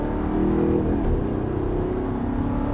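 An Audi R8 with the 4.2 FSI V8 accelerating hard in fourth gear, a loud, steady, rising engine drone close up with a slight wobble in pitch and no speech.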